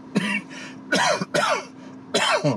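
A person in a car coughs several times in quick, harsh bursts with short pauses between them, close to the microphone, with a faint hum underneath.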